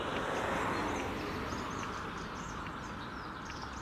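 Birds twitter softly outdoors in quick repeated chirps above a dense, even background hiss, fairly distant and unbroken by talk.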